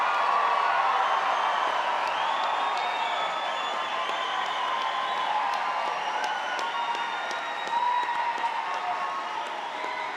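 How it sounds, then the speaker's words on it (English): A graduation commencement audience gives sustained applause for the graduating class, dense clapping mixed with cheering and whoops, loud and steady throughout with no pause. "giving our graduating class a well-deserved round of applause as they rise to be recognized"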